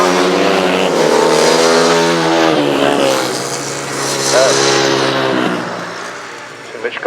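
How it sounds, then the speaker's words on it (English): 500cc sidecar outfits race on the Frittenden grasstrack, engines roaring loud and close with rising and falling revs, while a commentator talks over the noise throughout. "race 18, 500 sidecars."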